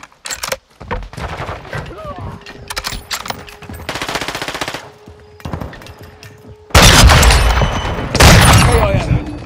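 Bursts of automatic gunfire from Call of Duty Modern Warfare II on PS5, loud rapid rattling volleys broken by short pauses, with heavier blasts toward the end and voices calling out during the firefight.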